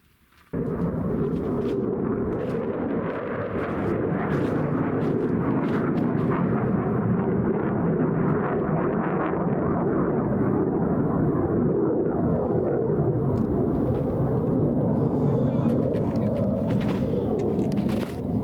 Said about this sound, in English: We might already have a fighter jet.